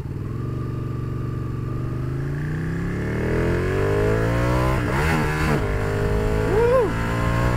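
A Ducati Panigale 1199 superbike's engine revs loudly and close, the pitch climbing steadily as it accelerates through the gears, with a brief chirp of tire slip near the end.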